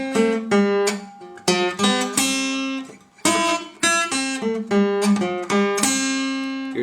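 A Delta blues lick on acoustic guitar, with plucked treble notes jumping between strings and a steady bass string resetting the time, played close and alone.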